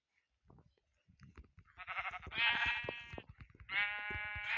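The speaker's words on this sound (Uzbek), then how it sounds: "Ana qo'ylar bolalar." Several sheep bleat nearby, loud wavering cries one after another, over soft shuffling and clicking sounds.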